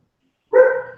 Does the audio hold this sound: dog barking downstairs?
yes